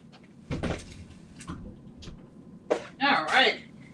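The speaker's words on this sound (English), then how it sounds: "I had to go close that door." An indoor door is pulled shut close by, with a couple of soft thumps followed by a louder latching clunk and rattle, while a person speaks briefly in between.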